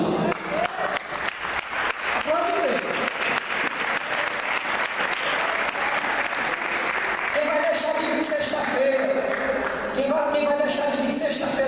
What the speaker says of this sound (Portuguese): Quem crê aplaude Jesus?